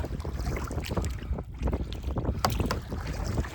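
A canoe paddled on water during a day of paddling and portaging gives soft irregular splashes and strokes close by, with wind noise buffeting the microphone.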